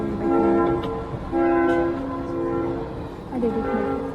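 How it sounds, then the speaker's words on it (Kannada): A train approaches with repeated horn blasts, loud steady tones over a rumbling rail clatter, sounding in separate bursts nearby. "ಟ್ರೈನ್ ಬರ್ತಾ ಇದೆ."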